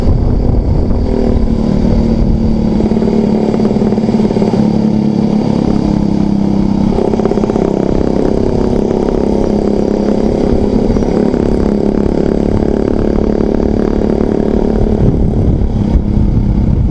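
Steady engine drone of a motorcycle on the move, continuous and fairly loud with a low rumble, no voices.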